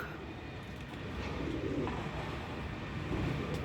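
Firozpuri pigeons coo in low, throaty rolling calls, several birds close by over a steady background hum, with no talk.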